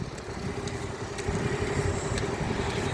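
A motorcycle engine drones steadily on a country road, a continuous buzzing hum at moderate distance that grows slightly louder midway, with no talk.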